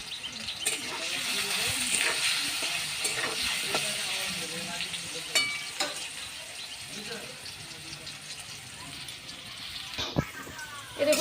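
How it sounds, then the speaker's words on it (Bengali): Potatoes fry in a pan with salt and turmeric, a soft continuous sizzle broken by occasional stirring clinks and scrapes, while a voice talks intermittently over it. "এই দেখুন বন্ধুরা, আলুগুলো আমার ভালো মতো ভাজা হয়ে গেছে"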